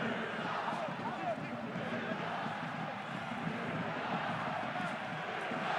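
Steady roar of Perpignan supporters filling a rugby stadium during a Top 14 match against Clermont, a dense, continuous crowd noise that holds at an even level, with faint commentary voices mixed underneath.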